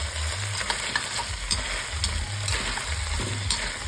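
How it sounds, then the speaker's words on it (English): Unpeeled chopped carrots sizzle and fry in a pot for a homemade chicken stock, a steady crackling hiss with soft stirring bumps and clatter, close and alone without talk. "get some of that sizzle"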